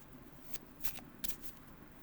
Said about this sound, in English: however you want to shuffle your cards